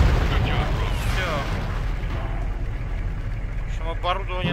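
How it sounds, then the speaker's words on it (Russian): Tank cannon fire and explosions from the Tank Commander video game, with a US armored unit crossing the Finnish border, make a loud, continuous rumbling roar with layered booms and crackling bursts throughout. "Просто из пушки вот стреляли."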